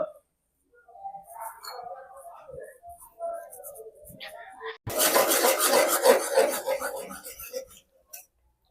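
Spoon stirring a small-onion curry in a pot, a rough scraping and sizzling burst for several seconds after a stretch of soft clinks and talk.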